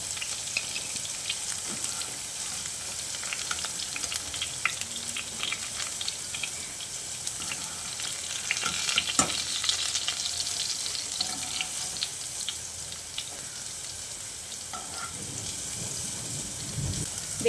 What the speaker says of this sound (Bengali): আলুগুলোকে আমি ভালো করে ভেজে নিয়েছি।